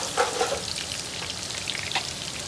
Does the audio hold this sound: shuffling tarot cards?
no